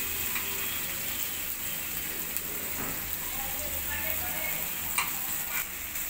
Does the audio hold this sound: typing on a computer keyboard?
no